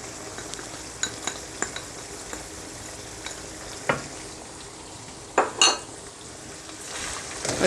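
Chicken karahi with coriander is stirred in a pan, giving soft sizzling under scattered clinks and scrapes of a utensil against metal, with a few sharper knocks near the end and no talking.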